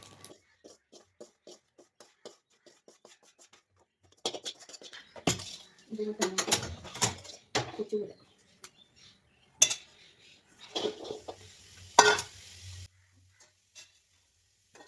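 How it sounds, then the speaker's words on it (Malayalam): Small shallots sautéing in a pan still oily from earlier frying, while a prawn theeyal is being made. A low sizzle sits under bursts of spoon scraping and stirring, with quiet stretches between and a little talk. "എന്നിട്ട് ആ പാത്രത്തിലോട്ട് തന്നെ നമുക്ക് കൊച്ചുള്ളിയൊക്കെ ഒന്ന് വഴറ്റിയെടുക്കാം."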